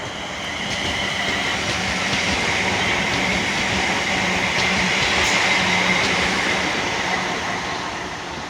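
A Class 350 electric passenger train on a Birmingham International to Trent Valley service rolls past a West Coast Main Line station, a loud steady rumble of wheels on rail with faint clicks throughout.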